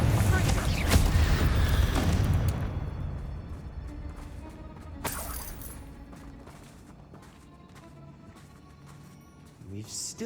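Bombarda and Confringo explosion spells from the Hogwarts Legacy video game burst with a loud, dense blast that rumbles and decays over several seconds, followed by a sharp crack and fading debris.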